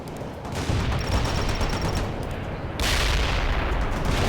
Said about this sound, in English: Launching missile now.